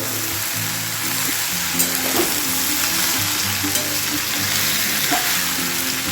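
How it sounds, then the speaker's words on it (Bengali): Vegetables fry for a simple winter dish in a covered pan, giving a steady, close crackling sizzle with small pops throughout and no voices. "ঢাকা দিয়ে দেবো। ভাজা হতে থাক, তারপরে দেখাচ্ছি। ঢাকা খুলে মাঝে মাঝে একটু ঘেটে দেবো।"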